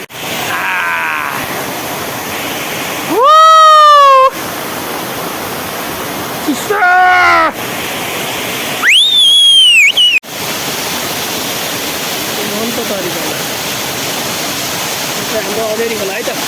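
River water rushes in a continuous, loud, close roar at a fishing spot along a stream. Brief bursts of a person's voice cut in above the noise a few times.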